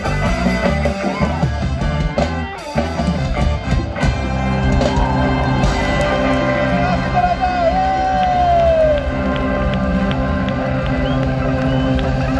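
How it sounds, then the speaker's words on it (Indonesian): A crowd at a live stage event with a car prize draw cheers and shouts loudly and continuously, mixed with music and amplified voices. "Wow, tepuk tangan mantap sekali untuk Steven Sam"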